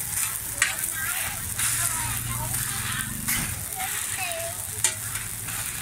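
Fried batter cakes sizzle steadily in hot oil at a street food cart in Ho Chi Minh City, a continuous crackling hiss close by with occasional clinks, while people talk nearby.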